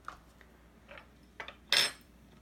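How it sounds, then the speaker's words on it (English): Utensils and a bowl handled in a home kitchen while preparing donair sauce, with a few light clinks followed by one louder ceramic clatter, close and alone. "So I'm going to take a bowl"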